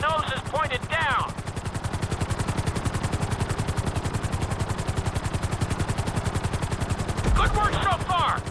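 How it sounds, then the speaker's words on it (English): A helicopter flies in Grand Theft Auto V, its rotor chopping in a fast, steady, even rhythm throughout, loud and close, with a brief voice heard at the start and end. "To maximize acceleration, keep the nose of the helicopter tipped."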